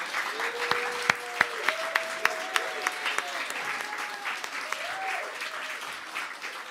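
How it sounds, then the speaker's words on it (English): Audience applause for child storytellers at a small show, a moderate crowd clapping steadily with sharp individual claps standing out, while voices talk over it. "Can we give our storytellers one more round of applause?"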